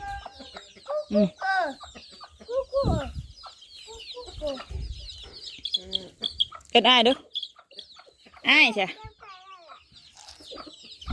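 Chickens cluck and squawk repeatedly nearby at a merit-making festival, with several loud bursts of clucking scattered among people chatting close by.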